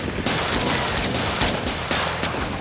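Gunfire in a film scene where police fire on police during a pursuit of a bank-robbing gang, dense rapid shots crackling over a continuous noisy backdrop, loud and close, with no talk.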